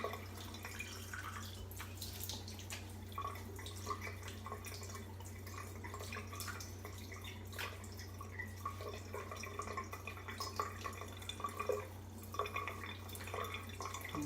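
Face rinsed with water after a wet shave, soft splashing and dripping with scattered small taps over a low steady hum, quiet and without talk.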